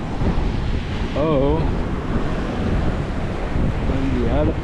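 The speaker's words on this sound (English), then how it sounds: "Good thing is you can walk by the ocean." Ocean waves wash against the shore beside a seaside jogging path near the Tanzanite Bridge, a constant roar mixed with heavy wind buffeting the microphone, while a voice speaks briefly over it.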